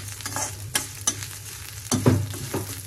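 Cumin seeds and garlic fry in a pan, a continuous close sizzle punctuated by quick stirring scrapes and a louder crackling burst toward the end, no voices heard.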